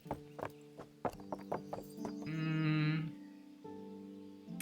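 A horse turning in Kingdom Come: Deliverance: a run of sharp hoof clops on the ground, quick and uneven, then a brief swell of louder movement and a hum settling afterward, with no voices.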